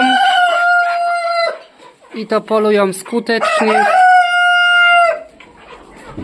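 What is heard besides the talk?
chickens clucking, hens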